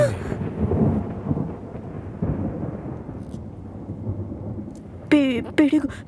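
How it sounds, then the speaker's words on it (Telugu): Heavy thunder rolls low and continuous through a Telugu feature-film scene, swelling and easing for several seconds before a brief, sharp voice cries out near the end. "పిడుగు పిడుగు శబ్దం."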